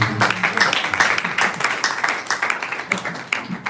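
A small group at a graduation ceremony claps briefly, close by, a quick burst of scattered hand claps that stays fairly even before tapering off.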